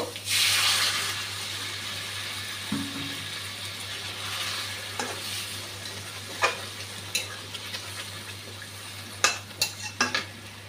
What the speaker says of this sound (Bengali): এখন মাছগুলা দিয়ে দিচ্ছি। মাখাই করব।